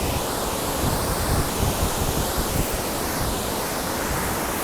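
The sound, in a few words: river water flowing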